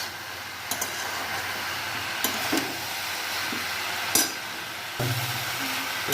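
Potatoes and raw banana are stirred in a frying pan over a steady low sizzle, with several sharp scrapes and clanks of the spoon against the pan spaced a second or two apart.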